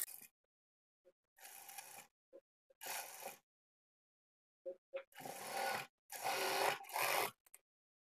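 A sewing machine stitching blouse fabric, running in short whirring bursts of one to two seconds separated by pauses, with a rapid cluster of runs toward the end, close and fairly quiet.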